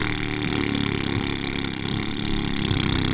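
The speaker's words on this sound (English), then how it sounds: "The engine is still running." A 1982 Mercedes-Benz W123 station wagon's engine idling, a steady low rumbling hum with an even mechanical drone that stays constant and close, with no talking.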